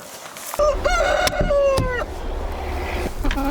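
A newly added rooster in a farm breeding flock crows loudly and close by, with the crow drawn out across a couple of seconds, followed by clucking and some faint background talk.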